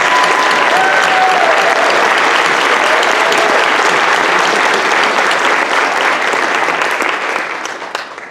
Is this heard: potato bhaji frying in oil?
no